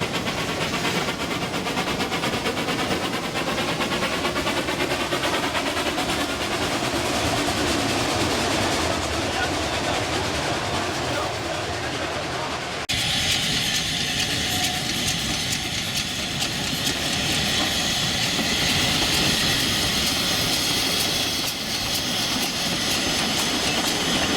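A Feistritztalbahn narrow-gauge train in Austria pulls into Birkfeld station with a steady, close rumble and rail clatter. Partway through, the texture shifts abruptly to a brighter, hissing engine tone.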